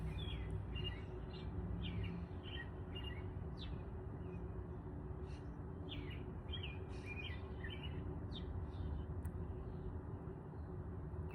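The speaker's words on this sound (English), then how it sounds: "Just realized how beautiful the birds sound." Birds chirp and sing in repeated short phrases, fairly faint and somewhat distant, over a steady low rumble of background traffic.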